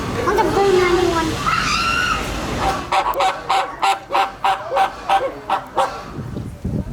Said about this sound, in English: there's these weird looking birds in front of me